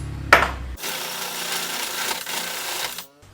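A Milwaukee hole saw grinds through a single cut of a little over two seconds, loud and steady at close range, stopping abruptly after a brief clatter at the start.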